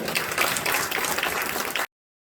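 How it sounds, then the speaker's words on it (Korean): Brief burst of congregational applause at an outdoor church worship service in Korea, steady clapping for under two seconds before cutting off abruptly. "하나님께 영광 박수 올려드릴까요?"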